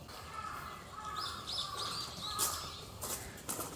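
Small birds chirping in the background at Sensoji Temple shrine in Japan, thin repeated tweets over a steady outdoor murmur of crowd and ambience, a few louder rustles and footsteps near the end.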